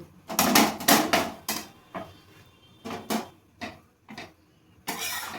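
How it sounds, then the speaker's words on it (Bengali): A spatula presses tandoori roti onto a hot pan as it fries, giving a series of close, irregular scraping and tapping bursts of metal on metal with short pauses between them and no talk. "এবার আমি খুন্তি দিয়ে দুদিকে চেপে চেপে আমি ভেজে নেব।"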